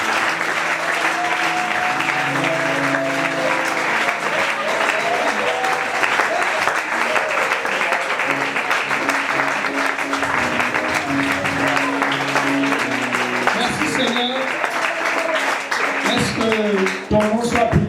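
A church congregation applauding in praise of the Lord, sustained loud clapping throughout, mixed with voices, music and cheers from the crowd.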